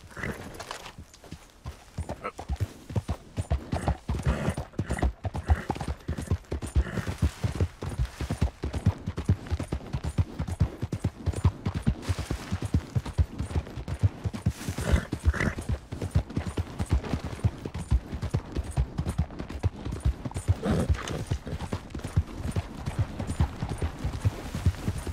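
Horse hooves clip-clop at a steady walking rhythm in Red Dead Redemption 2, with continuous close-up thuds and no talking.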